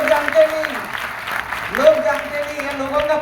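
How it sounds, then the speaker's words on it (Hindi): Audience clapping at a direct selling business gathering in India: steady, dense applause from a crowd, with a sustained tonal hum ringing through it for the whole stretch. "ताली बजाए इसके"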